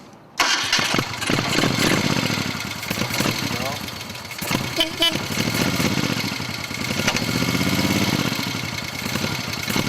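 A 1973 Moto Guzzi Eldorado police motorcycle engine fires up and settles into a loud, steady running rumble with some revving, close by, with no talking.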